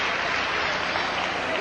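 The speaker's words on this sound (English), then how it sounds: "So a nice round of applause from the Cal fans for the performance by Michelle Hunt" Cal fans applaud a women's gymnastics routine at a 1992 UCLA at California college meet, a short burst of dense, even clapping from a crowd.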